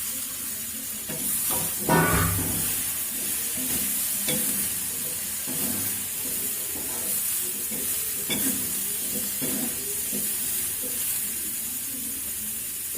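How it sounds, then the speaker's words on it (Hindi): Eggplant frying with red chili powder and spices in a pan for aloo baingan, with a steady sizzle and repeated scraping stirs, clear and close, with no voices. "इसमें बैगन डाल के अच्छी तरीके से भून लेते हैं।"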